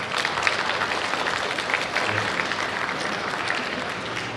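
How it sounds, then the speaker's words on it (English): A crowd at a fan convention, Fan Expo, applauds the artists from the convention's artist alley with a dense, steady roar of many people clapping, fairly loud and even throughout and without any voices. "If we can give them a round of applause"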